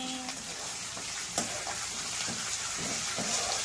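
Spice powder frying in oil with dried red chili and curry leaves for Rayalaseema potato fry: a steady, close hiss of sizzling with occasional soft stirring scrapes, and no voices.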